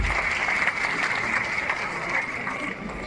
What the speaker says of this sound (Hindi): विशेष तालियां